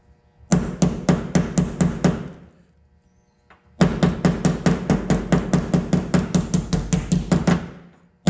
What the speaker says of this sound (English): I'm gonna use the paint stick to soften the blow of the hammer. I'm gonna put it right on that ridge, hammer it down.